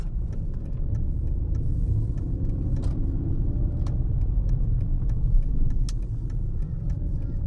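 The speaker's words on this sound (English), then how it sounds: "Nice sounding engine, still very nice sound" A Mercedes CLK engine runs steadily at idle, a smooth, continuous low rumble heard up close, with occasional faint clicks and ticks over the top and no talking.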